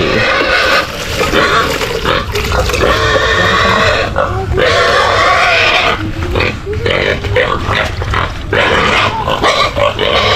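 Sows on a backyard farm squeal and grunt loudly and almost without pause as they are moved to a new pen, with a voice calling out now and then over the noisy pigs.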